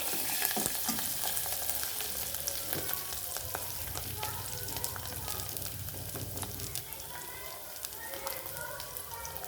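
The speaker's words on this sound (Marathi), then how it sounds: "थोडी आपल्याला कोथिंबीर पण तेलामध्ये टाकायची" Coriander leaves dropped into hot oil for a Marathi varan tempering crackle and sizzle steadily, close and fairly loud, with scattered sharp pops throughout and a voice speaking intermittently in the background.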